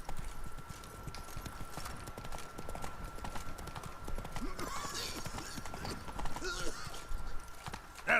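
Hoofbeats of Roach, the horse in The Witcher 3 Blood and Wine, in a steady galloping clip-clop under a constant tone of game ambience, with some talk over it.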